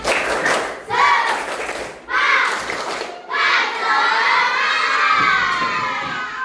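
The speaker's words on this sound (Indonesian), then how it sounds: "beri tepuk semangat dulu, tepuk semangat." Elementary schoolchildren in a classroom perform a loud group clapping cheer, chanting and shouting together in bursts with rhythmic claps and thumps, the final burst held longest.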